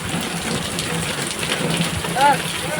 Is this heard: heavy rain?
yes